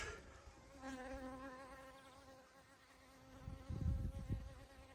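Steady insect buzzing from honeybees at a hive, with wavering pitched drones overlapping and low rumbling thumps near the end; no talking.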